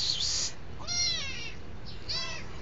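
A kitten meows close by, two or three thin, high mews with short gaps between them, over faint background noise.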